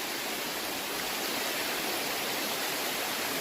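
Rushing water roars in a steady, dense hiss, like a waterfall heard up close, with no other sounds: St. Mary's Falls, running heavy after rain.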